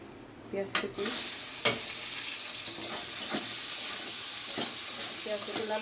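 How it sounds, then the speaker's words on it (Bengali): Chopped onion sizzles steadily in hot oil, with bay leaf and cumin in the pan, while a utensil stirs it in repeated scraping strokes roughly every second, all close up in a home kitchen. "পেঁয়াজটাকে লাল লাল করে ভাজা হোক"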